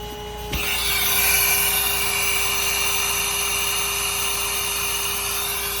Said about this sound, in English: I'm getting very little to almost no airflow out of the exhaust of my vacuum